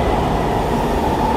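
A train in the horror game The Mimic gives off a loud, continuous rumbling roar, a steady dense rush with no breaks.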